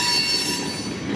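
A short freight train rolls past nearby, its wheels squealing and grinding on the rails in a loud, continuous screech with a low rumble beneath and no voices.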